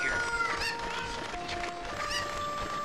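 Chickens clucking in the Zelda: Ocarina of Time video game, a run of short bird-like calls and squawks layered over steady game background sound, fairly loud and with no talking.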